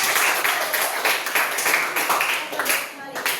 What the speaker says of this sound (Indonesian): boleh tepuk tangan untuk Kak Tessa